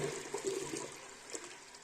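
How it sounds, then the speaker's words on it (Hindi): Water from a jug poured into a cooking pot of soaked lentils with salt, a steady splashing gurgle running close and alone for about two seconds. "1 जग मैंने पानी का डाल दिया"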